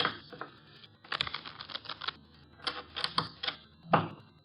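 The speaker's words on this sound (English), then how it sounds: "The cards are shuffled." A deck of playing cards is shuffled at a card table in an old-time radio drama: quick bursts of crisp, rapid clicking riffles, close and clear, with no talk over them.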